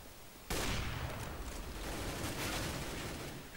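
CS:GO gunfire on de_dust2 during a professional match: a sudden burst of rapid shots erupts after a quiet moment and continues as dense sustained firing.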